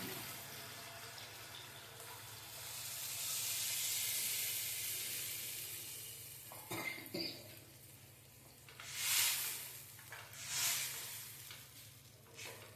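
Tamarind-based fish curry liquid poured into a hot pan gives a steady sizzling hiss that swells and fades, followed by a few louder bursts of splashing and stirring, with no talk.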